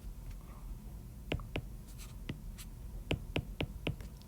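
Chalk or pen strokes while equations are written by hand, a series of short, crisp taps and scrapes in uneven rhythm, close and fairly quiet, with no talking.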